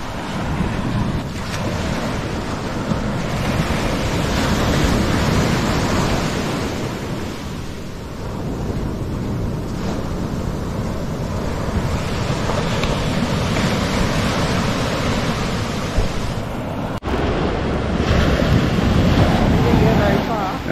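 Ocean surf rolling onto a steep beach at Nags Head on the Outer Banks, a loud, continuous roar of breaking waves mixed with heavy wind buffeting the microphone throughout.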